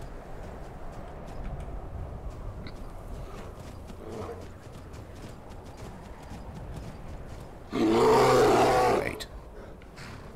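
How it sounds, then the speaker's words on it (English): A bear in the video game Skyrim lets out a single loud roar lasting over a second, rising above quieter background sounds of hoofbeats and ambience. A voice speaks briefly before the roar. "Oh, it's a bear."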